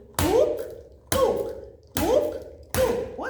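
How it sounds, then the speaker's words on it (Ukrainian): A toy hammer taps four times on a surface at an even, unhurried pace, each knock sharp and close with a short ringing tail, recorded during a children's speech and voice exercise. "Як він стукає? Тук-тук. Можна на руку, можна мамі, а можна по столу."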